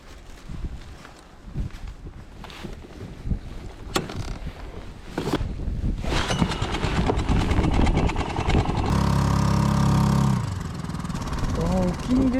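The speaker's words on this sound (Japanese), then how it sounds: "エンジン始動してみる。" A small 2-horsepower outboard motor on a boat at sea starts up and runs with a steady close drone over wind and water, with voices talking near the start.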